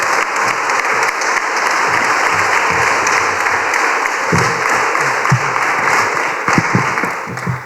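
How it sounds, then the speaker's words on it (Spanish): A crowd at the opening of a new cultural space in Beas claps in sustained applause for the workers, a dense steady roar of hands that lasts throughout and thins slightly near the end. "le damos un aplauso a ellos que han sido un poco los artífices de este maravilloso trabajo"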